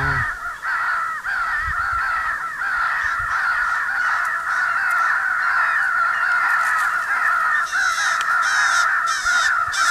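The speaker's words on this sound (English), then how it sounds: "I went ahead and switched the call over to a crow fight" Crows caw loudly and continuously in an outdoor Florida crow hunt, answering an electronic crow fight call; the harsh calls overlap in a steady chorus for the whole stretch.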